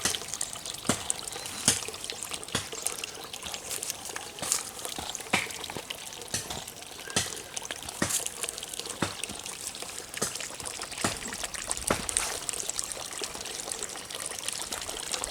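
Water pours steadily into an outdoor pit being prepared for growing Azolla, a quiet trickling stream broken by frequent small splashes and drips, with no voices.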